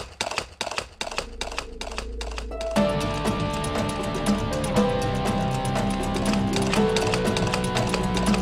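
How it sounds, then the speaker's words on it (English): Horse hooves clip-clop in a quick, sharp rhythm, then give way to a steady galloping beat under swelling music, with an animated cartoon-like soundtrack carrying through to the end. "It sounded like a horse galloping towards us."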